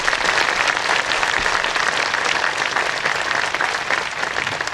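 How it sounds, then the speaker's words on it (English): Sustained audience applause at the Lake Tahoe Summit, honoring the Forest Service; dense, steady clapping from a large crowd holds at an even loudness throughout, with no talk over it. "Will you give them a big round of applause, please?"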